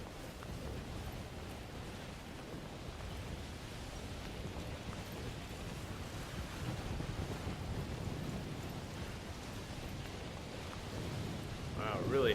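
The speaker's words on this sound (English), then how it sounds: "Wow, really heavy storm here." A heavy, windy storm in the video game Death Stranding roars steadily throughout as a dense, continuous rush of wind and noise, loud and unbroken for the whole stretch.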